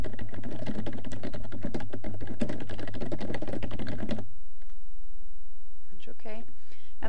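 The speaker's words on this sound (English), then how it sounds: "Type in your chapter description." Rapid clicking on a computer keyboard comes while entering a chapter description in yWriter writing software, with a voice talking over the keystrokes before the typing stops and faint sounds follow.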